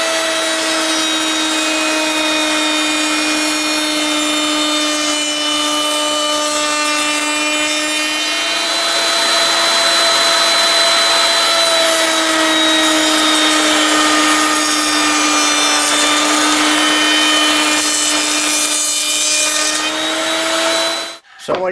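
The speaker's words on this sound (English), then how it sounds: "So when you're running a router table or a shaper table, again, you want to apply pressure down." A router table cuts wood for a card box, running as a steady loud whine with a continuous tonal hum for about twenty seconds, stopping abruptly at the end.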